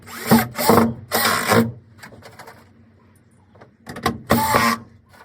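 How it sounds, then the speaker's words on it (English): A power drill driving screws through window trim into the fiberglass shell of a truck bed camper, with several short loud whirring bursts grouped in two sets and a quiet gap between them, close up. "Gonna screw all these in."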